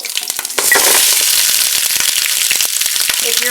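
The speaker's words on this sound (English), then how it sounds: "Now these are frozen meatballs, so they are going to pop and sizzle for just a minute." Frozen meatballs hit a hot pan and burst into loud, dense sizzling with scattered sharp pops and crackles, steady and close throughout.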